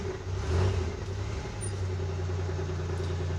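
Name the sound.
old pickup truck engine with exhaust leak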